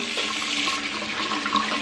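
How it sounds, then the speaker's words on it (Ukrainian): Tap water runs steadily while items are washed by hand with soap, a continuous close splashing stream with no voices. "Бачите, яка вода? І собак глажу, і Кеті, і всіх інших. Дивіться, яка вода"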